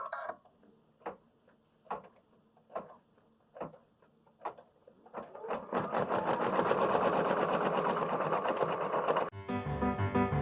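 An embroidery machine stitching a digitized leaf design on fabric starts with a series of evenly spaced single ticks, then runs into a loud, steady, rapid mechanical stitching hum close by, with no talk.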